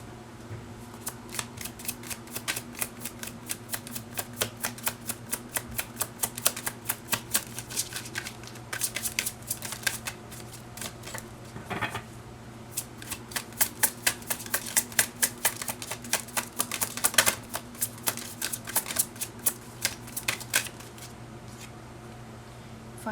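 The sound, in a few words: drawing tarot cards from a deck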